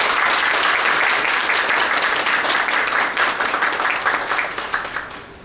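Audience applause at an international forum on carbon neutrality, a dense, loud round of clapping from a crowd that holds steady and then tapers off toward the end.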